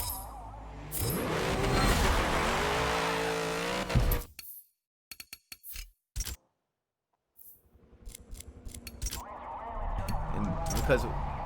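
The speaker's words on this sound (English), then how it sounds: "I feel like we're burning out correctly now" A Porsche 906 in a racing video game revs hard and squeals its tires in a burnout, loud and sustained at first, then cut into short bursts and gaps before the engine roar returns, with someone talking over it.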